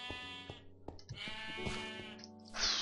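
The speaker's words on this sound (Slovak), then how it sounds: "Ovce." Sheep in the video game Minecraft bleat several times in a row, each a short wavering electronic baa, fairly close and clear, with no talking over them.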